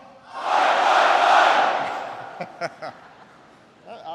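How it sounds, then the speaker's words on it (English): A crowd of US and Australian service members shouts the Aussie cheer back in one loud, sustained roar that swells and then fades. A few sharp scattered shouts follow, and a voice starts speaking near the end. "I know that you all have a great Australian cheer"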